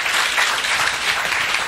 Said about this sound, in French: Merci, on acclame le Seigneur.